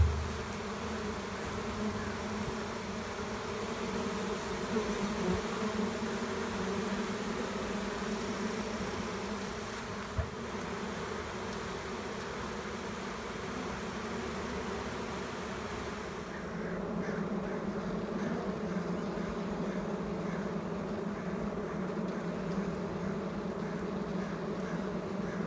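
Honeybees streaming into hives carrying pollen, a dense, steady buzz of many insects close by with a constant drone throughout.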